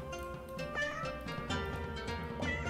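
Several cats meow repeatedly in a find-the-cats video game, the overlapping high, tonal cries arriving close and loud over a steady musical background.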